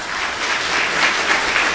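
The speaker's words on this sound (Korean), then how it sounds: "우리 감독님들께도 박수 한번 보내주시기 바랍니다" Dense, steady applause from a seated audience at a women's volleyball rookie draft, honoring high school coaches, continuous and fairly loud for the whole moment.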